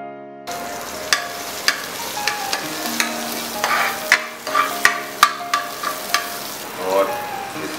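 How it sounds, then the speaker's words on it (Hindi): Cumin seeds and green chillies hit hot ghee in a pan for a pea paratha filling, starting a sudden bright sizzle with sharp crackling pops and clinks of a spoon stirring, close and fairly loud. "और इस घी पे डालेंगे हम ये जीरा, और इस जीरा पे डालेंगे ये हरी मिर्च"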